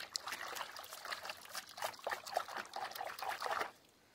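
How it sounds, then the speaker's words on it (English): Liquid trickling and dribbling faintly as a few drops of household detergent go into a water cleaning solution, small irregular splashes for about three and a half seconds, then quiet. "Put just a few drops of that into your water solution."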